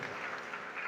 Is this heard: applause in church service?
yes